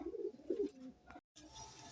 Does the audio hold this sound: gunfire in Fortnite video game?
no